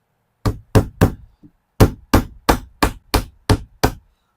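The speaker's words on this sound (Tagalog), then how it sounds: "Malayo masyado yung pukpok natin." A hammer pounds during a house makeover: about ten loud, close, sharp strikes in an uneven rhythm, with one faint tap in between.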